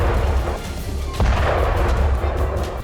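Naval guns fire in a US-UK military exercise in the North Atlantic, with a deep boom, then a second heavy blast about a second later, over a constant rumbling roar.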